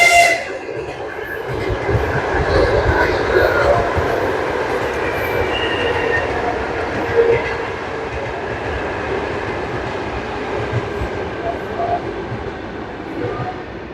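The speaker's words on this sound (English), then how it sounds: "It's a railway nearby, so time to time it can be noisy here" A train rumbles steadily past close by on a nearby railway, a heavy continuous roar with clattering wheels, fading slightly toward the end.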